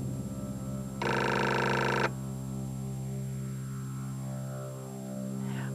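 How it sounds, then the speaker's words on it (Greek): A telephone rings at two in the night: a single electronic ring lasts about a second over a steady low mains hum, then the room stays quiet with no talking. "Χτυπάει το τηλέφωνο."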